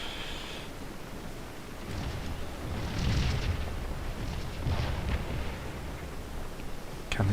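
Cannon artillery fire from a Scourge of War battle, distant muffled booms rolling out in a few irregular bursts over a continuous low battlefield rumble, with a sharper crack near the end.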